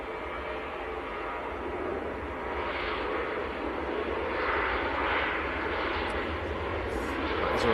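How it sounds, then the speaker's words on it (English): A Ryanair jet takes off from Manchester Airport on a freezing day, its engines a steady, broad roar that slowly builds and stays loud across the whole stretch, with no voices over it. "That's a Ryanair to Brussels, just getting airborne."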